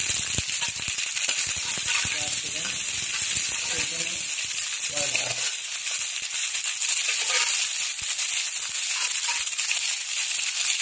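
Garlic and capsicum fry in hot oil in a kadai for a honey chilli potato dish, a steady bright sizzle with scattered stirring rattles running throughout, close and fairly loud.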